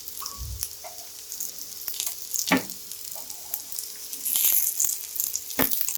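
Corn aloo tikki frying in a pan, a soft steady sizzle and crackle with scattered sharp pops and a brief louder scrape or stir, fairly quiet and close, with no talking.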